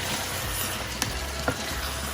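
Crab roast with coconut and hot water being stirred in a pan, a steady low simmering hiss with two brief spoon scrapes against the pan, fairly quiet.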